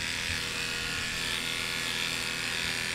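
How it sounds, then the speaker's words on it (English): Electric dog clippers with an attachment comb run steadily over a puppy's body coat, a continuous close buzzing hum with no talk over it. "I run the clipper attachment comb over the body like multiple times"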